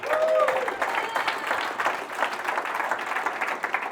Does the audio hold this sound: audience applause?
yes